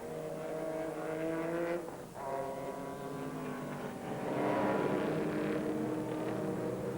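GT race cars, Porsches among them, battling on track in the 2001 American Le Mans Series: several engines whine past, one dropping away around the two-second mark before another loud pass swells up.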